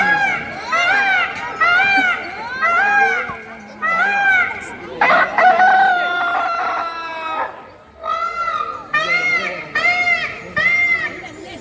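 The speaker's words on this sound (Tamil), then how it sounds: "சேவல்கள் கூட தமது ஒலியை எழுப்பி" Several roosters crow repeatedly, one after another, at a temple chariot festival in Jaffna, with loud, close calls broken by short gaps and a brief burst of other high calling midway.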